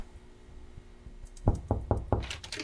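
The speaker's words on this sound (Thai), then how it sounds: "ไล่เคาะเลยเว้ย" Four sharp knocks on a door in the video game Everylight, evenly spaced and loud, coming after a quiet, low ambient stretch.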